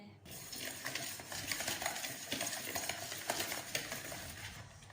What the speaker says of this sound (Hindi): इसको हम अच्छे से कर लेते हैं मिक्स